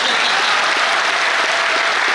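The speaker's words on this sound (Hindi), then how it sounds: "और तालियां जम के वो बजाते हैं जिनके हाथों में जान होती है।" Steady, dense applause from an audience at a trilingual poetry gathering held for a municipal corporation anniversary, filling the whole stretch loudly and evenly without speech.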